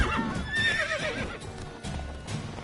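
A horse whinnies in a rising, wavering neigh over steady hoofbeat clip-clops and a busy game soundscape from The Witcher 3: Wild Hunt.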